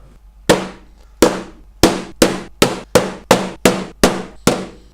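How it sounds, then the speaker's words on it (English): Nine sharp hammer strikes drive tacks into wood while a top bar beehive is assembled, each a crisp close knock with a short ringing tail, speeding up slightly. "just going to get my hammer and tack them in."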